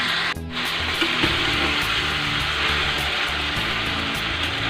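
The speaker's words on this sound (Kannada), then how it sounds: "ಸೊ ಅಲ್ಲಿವರೆಗೂ ಫ್ರೈ ಮಾಡ್ಕೊಳ್ಳೋಣ" Vangi bath masala mixture frying in a pan gives a steady, close sizzle that runs unbroken from start to end, with a short dip near the beginning and no talking.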